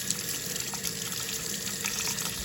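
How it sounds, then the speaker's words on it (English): A tap runs steadily for hand washing after sealing ATV vent lines with RTV, giving a continuous close hiss of flowing water with no talk. "I gotta go wash my hands real quick"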